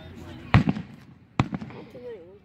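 Two sharp fireworks bangs go off about a second apart, each with a short crackling tail, outdoors at moderate distance, with people talking around them.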